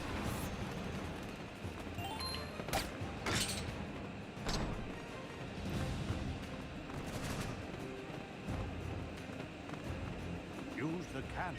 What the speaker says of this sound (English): Use the cannon to shoot down the Drow warship.